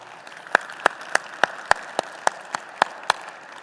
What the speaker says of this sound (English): I think they really deserve a round of applause.